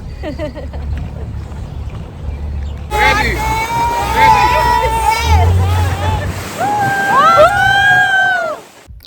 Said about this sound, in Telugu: స్పీడ్ బోట్ లో వెళ్తున్నాము